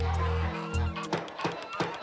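Ducks quacking in the video game A Space For The Unbound, a few loud honking calls at first, then a run of rhythmic quacks repeating close by.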